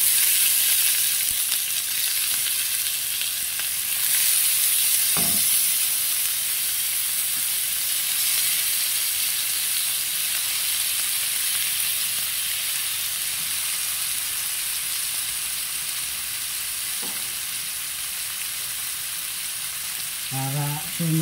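Squid sizzles in a hot pan with a steady, close frying hiss, with a few soft knocks of stirring or utensils throughout.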